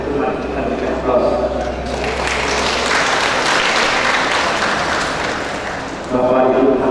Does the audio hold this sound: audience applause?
yes